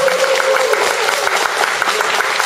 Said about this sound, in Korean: 응원의 박수 한번 주시죠.